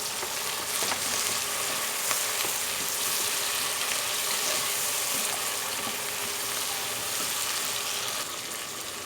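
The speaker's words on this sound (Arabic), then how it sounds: "هنزل بقى بالطماطم بتاعتي مقطعاها مكعبات اهو" Diced tomatoes go into a pan of softened onions, setting off a steady, loud, close sizzle and crackle of frying that holds evenly for several seconds, with faint stirring and no talking.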